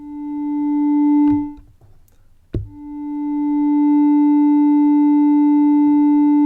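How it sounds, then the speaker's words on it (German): A KORG Monologue synthesizer plays a pure sustained tone that swells in slowly from a soft attack, fades briefly mid-phrase, then rises again into a long, steady held note with no talking. "wie ein Hochregeln der Attack-Einstellung, also ein langsameres Einfaden in den Sound bewirkt"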